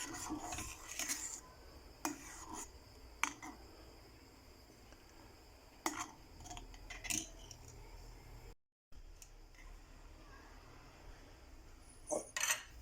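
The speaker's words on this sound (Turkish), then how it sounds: "ara sıra dibinin tutmaması için kaşık yardımıyla şöyle bir karıştırıyoruz" A spoon stirs a pot of milk pudding mixture for a magnolia dessert, scraping the bottom: quiet intermittent rubbing and scraping strokes, with a few sharper metallic clinks spaced irregularly and a brief silent gap near the end.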